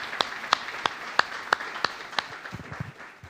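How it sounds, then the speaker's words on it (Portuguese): A church congregation claps in slow, separate, evenly spaced beats, about seven sharp claps, moderately near, fading into a low shuffle near the end. "Vamos dar uma salva de palmas ao Senhor"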